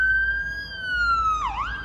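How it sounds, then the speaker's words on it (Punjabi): A wailing siren holds a steady rising-falling tone, then sweeps sharply down and back up, loud and close over a low traffic rumble. "ਐਂਬੂਲੈਂਸ ਦੇਖੋ"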